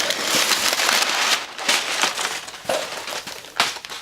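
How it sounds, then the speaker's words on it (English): A cut cardboard shipping box being opened, close crinkling and rustling of cardboard and packing material, with scratchy handling noises and a few sharper crackles throughout. "I just cut this box open"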